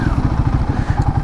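A Royal Enfield Guerrilla 450 motorcycle engine thrums while riding, a loud, close, rapid low-pitched pulsing beat that stays steady throughout.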